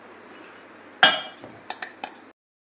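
Spoon clinking and scraping against metal pots while eggless vanilla tea-time cake batter with dry fruits is mixed, a few sharp close clanks in short bursts after a quiet start, no talking.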